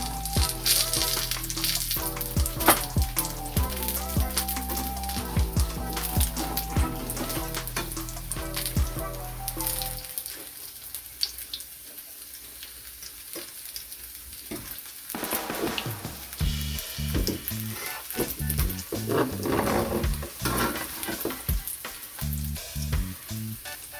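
Jamaican salt fish fritters frying in oil in a pan, a steady crackling sizzle that runs through the whole stretch, fuller and busier at first, then thinning briefly before picking up again, close and fairly loud.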